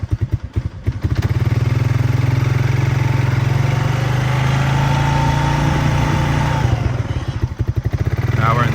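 A 2005 Honda Rancher ATV engine runs steadily in first gear, a loud, close, even drone with an uneven, revving start and a few louder bursts near the end.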